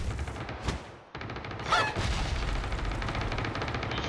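Gunfire in the video game PUBG, with a few scattered shots followed by a rapid, steady run of automatic fire that continues to the end, moderately loud, with no talking.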